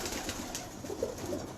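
Breeder pigeons cooing nearby in a loft, soft low murmuring coos with a couple of slightly louder calls over a steady background hum.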